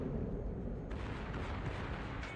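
Rapid booming gunfire from a warship's secondary batteries in a World of Warships naval battle, a dense rumbling barrage that thickens partway through and keeps pounding steadily with no voices.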